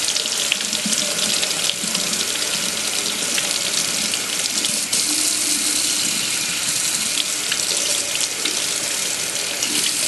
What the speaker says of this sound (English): we're going to rinse it out under the water